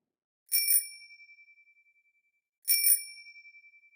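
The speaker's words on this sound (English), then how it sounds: "When she rang the bell on her bike" A bicycle bell rings twice, two bright metallic double-strikes about two seconds apart, each fading with a clear lingering ring in otherwise silent surroundings.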